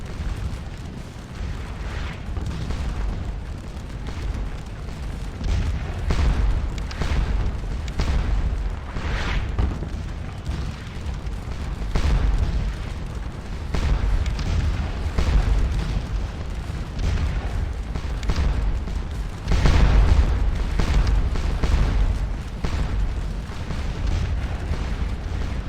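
Artillery cannon fire in the Napoleonic Waterloo battle game Scourge of War Waterloo, rolling booms from many guns firing in an overlapping barrage, loud and continuous with heavier blasts swelling at intervals.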